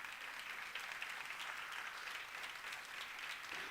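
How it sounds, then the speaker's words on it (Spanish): A church congregation applauds during a Spanish-language service, dense, steady clapping from many hands that fills the room without pause. "Dale el aplauso al Señor si quieres."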